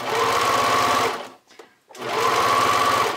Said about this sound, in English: So I've switched over to my regular sewing machine